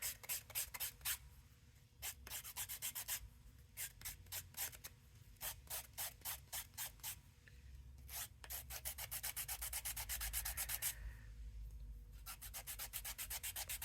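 A colored pencil point is sanded with quick, close, quiet scratchy strokes that come in rhythmic bursts separated by short pauses.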